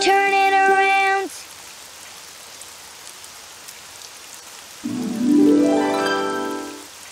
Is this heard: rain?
yes